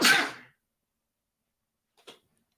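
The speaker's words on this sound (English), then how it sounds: "Oh, I have to sneeze." A single loud, close sneeze bursts out at the start, then silence follows, broken only by a faint short click.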